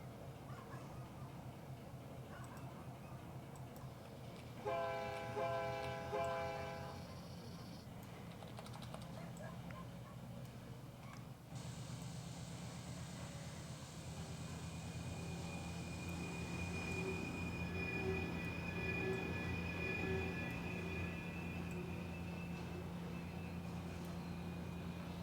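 A train in a railroad simulator video game rumbles steadily with wheel squeal and coupling clanks. A brief tonal horn-like blast sounds partway through, then a sustained higher whine joins the engine noise.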